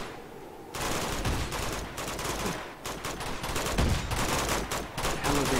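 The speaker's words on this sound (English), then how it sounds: "what are these guys shooting at?" Enemy gunfire in the video game Uncharted 2 crackles as dense, continuous volleys of rapid shots, loud and sustained after a quiet opening.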